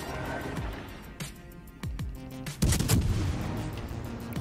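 Battleship main guns fire in World of Warships Legends, several heavy, booming salvos a second or so apart, each rolling into a long rumble over steady background engine and water noise.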